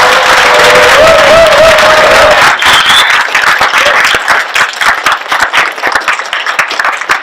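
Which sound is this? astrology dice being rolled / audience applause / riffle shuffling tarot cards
audience applause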